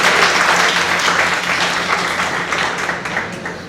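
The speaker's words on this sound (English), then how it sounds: "And a big round of applause." Steady, dense applause from an audience at a design conference in Kozhikode, sustained and fairly loud throughout with no break, easing off slightly toward the end.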